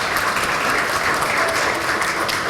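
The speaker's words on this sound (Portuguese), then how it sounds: "já vamos aplaudir a Deus pela vida" Steady, dense applause from a church congregation praising God for the lives of local business owners, loud and continuous throughout without a break.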